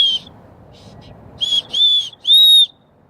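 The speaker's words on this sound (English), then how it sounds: "Let's test the whistle." Built-in whistle of a Leatherman Signal multitool blown in a few sharp, piercing shrill bursts, the last one longest and loudest, close and alone.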